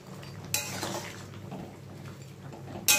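Koi fish go into a pot of boiling curry on a kitchen stove, a metallic clank and clatter of pot and utensil at the start, a low simmer beneath, then another sharp clink at the end.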